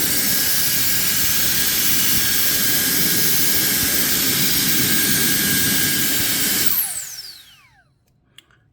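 A tiny multifunctional portable air blower and vacuum-cleaner fan runs close and loud with a steady broadband rush and a constant whine, then switches off near the end, its pitch sliding down as the motor spins to a stop.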